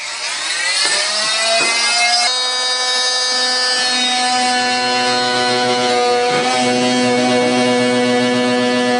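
A power saw fitted with a half-circle blade cutting into sheetrock wall, a loud, close, high-pitched motor whine that shifts pitch as it bites, held steady for several seconds with no talk.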